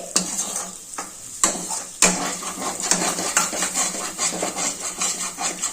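Moong dal roasting with a little oil in a pan, a steady sizzle broken by sharp scrapes and clinks of a spatula stirring against the metal, close and alone.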